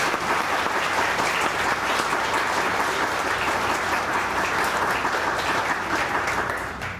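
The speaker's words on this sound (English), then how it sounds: "let's give these kids another round of applause" An audience at a high school art show gives student award winners a warm round of applause, dense close clapping that holds steady for several seconds before tapering slightly at the end.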